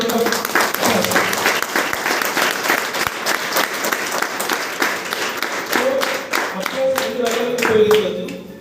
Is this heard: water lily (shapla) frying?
no